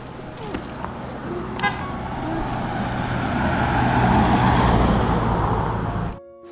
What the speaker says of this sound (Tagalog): Ito na nga yung highway dito sa amin guys